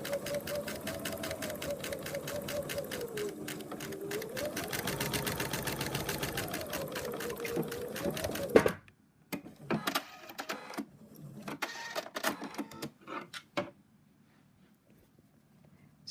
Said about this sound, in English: I'll just go to the machine and sew that.